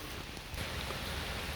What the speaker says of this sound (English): Whoops, starting to rain here.